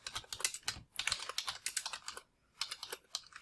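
Rapid typing on a computer keyboard, close and clear, in uneven bursts of clicks with a short pause near the middle and no voices.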